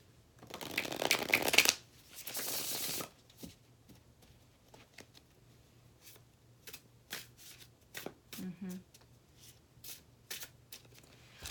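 A deck of tarot cards is shuffled in two loud riffling bursts, then quieter taps and slides as the cards are handled, close by in a quiet room.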